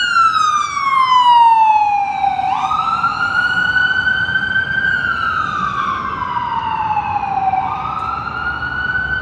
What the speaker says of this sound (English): as the ambulance passes by